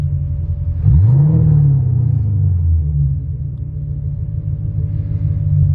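A Ford SN95 Mustang Cobra engine is blipped once, a close rumbling rev that swells quickly and then sinks back to a steady low idle, with no talking.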